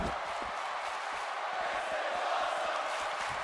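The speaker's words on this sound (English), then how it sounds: "The crowd accurately chanting this is awesome" A wrestling crowd at a live independent show fills the space with a distant, steady roar of chanting and cheering, rhythmic pulses rising and falling without any clear individual voice.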